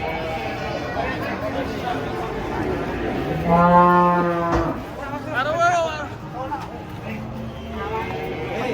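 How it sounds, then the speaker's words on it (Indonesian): A large, unusual cattle animal being unloaded from a truck gives a couple of loud, drawn-out moos close by, amid people calling and talking around it. "Oh, sapi."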